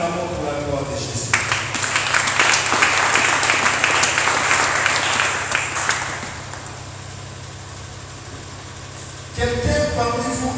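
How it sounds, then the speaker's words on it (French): A church congregation at a prayer service bursts into loud, sustained applause that swells for several seconds and then fades, with a low steady hum underneath and a voice speaking before and after. "Acclamons pour la gloire de Jésus"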